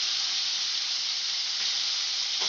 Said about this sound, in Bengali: এবার আমি রসুন, কাঁচা লঙ্কা, আদার একটা পেস্ট বানিয়ে রেখেছি, সেটা দিয়ে দেব।